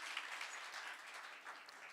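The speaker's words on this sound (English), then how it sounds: "give yourselves a round of applause" An audience at a makerspace conference applauds after a group exercise, a soft, even patter of clapping with a somewhat distant, thin quality.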